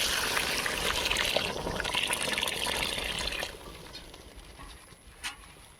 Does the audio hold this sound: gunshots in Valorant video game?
no